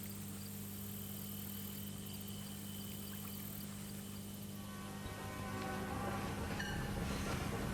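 A train at Peterborough rail terminal in Australia, where three rail gauges meet, gives a low steady rumble and idling drone, growing slightly louder and busier with squeals and rattles near the end, distant and alone.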